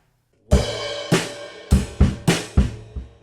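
A drum kit plays a short rhythmic variation: six sharp hits with cymbal wash, uneven spacing, loud and close, no voices.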